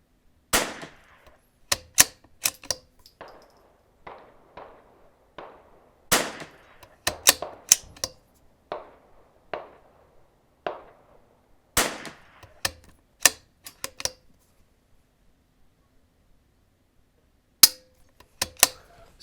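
A Vudoo Gun Works V-22 rifle is fired at an outdoor range during break-in and testing, giving a long series of sharp, close cracks spaced a second or so apart, each with a short fading tail and brief pauses between groups.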